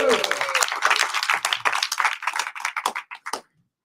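An audience at a Cornwall demo night claps and whoops for the first presenter, a dense burst of clapping that thins to scattered claps and stops abruptly.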